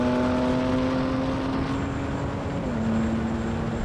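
A BMW M3 Touring and an AMG C63 S Estate accelerate hard side by side in a drag race, their engines droning loud and continuous with rising tones and a gear change partway through.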